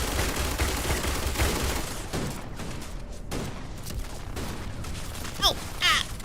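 Gunfire in the space game Starfield, a sustained rattle of rapid shots with sharp bursts, fairly close and steady, with a few brief whistling effects near the end.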